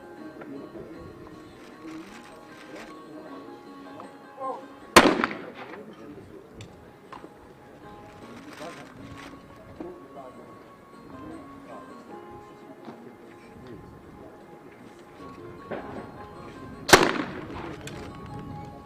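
Two sharp, loud shotgun shots about twelve seconds apart in a men's trap shooting final at an ISSF World Cup in Cyprus, with commentary talk running quietly underneath.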